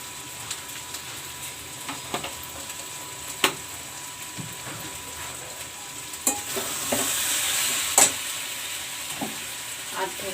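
Ground cumin sizzles in hot oil in a pan, a soft steady fry with intermittent sharp taps and scrapes of a spatula stirring the spices.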